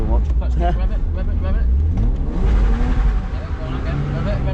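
A BMW E46 revs hard during a clutch-kick drift, its engine climbing and falling in loud, close surges. An instructor speaks over the engine noise.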